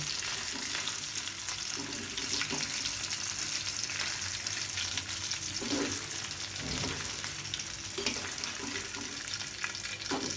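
Rui fish pieces frying in oil in a pan give a steady, close, even sizzle throughout, with occasional soft clinks of a utensil and no talk.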